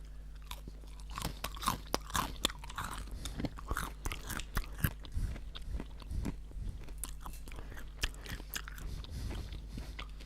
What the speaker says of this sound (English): Go on, give it a crunch.